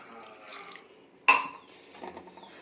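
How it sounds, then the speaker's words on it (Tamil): Water is poured into a pot of mutton gravy in a home kitchen: a sharp metallic clank from the vessel, then soft trickling and liquid splashing, fairly faint and close. "நம்ம தேவையான அளவு தண்ணி ஊற்றிக்கலாம்"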